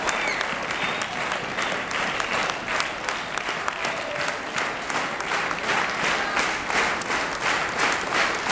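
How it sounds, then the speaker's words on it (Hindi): Warm, sustained applause rolls through a packed pavilion at a school annual result ceremony, crowd clapping thick and continuous without a break for over eight seconds. "पूरे पंडाल जो है वो दिल खोल के इनके लिए ताली दिया"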